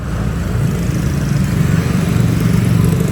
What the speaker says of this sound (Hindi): आ गया भैया अपना स्कूटर।